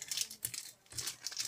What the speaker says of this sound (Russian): Сейчас мы раскроем этот пакетик.